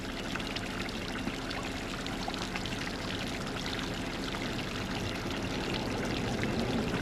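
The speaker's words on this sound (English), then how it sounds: "Natural spring." Natural spring water flows and trickles in a steady, continuous stream at Rock Island State Park, Tennessee, a soft constant splashing with no voices.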